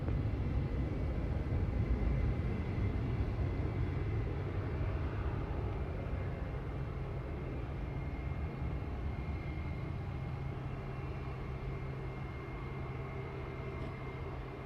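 An airliner takes off from runway 25 at Montego Bay, Jamaica, a broad steady roar of jet engines that holds at high level and eases slightly as it continues, with no talk.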